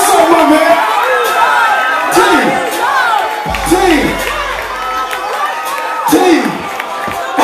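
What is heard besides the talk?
crowd applauding and cheering the best performer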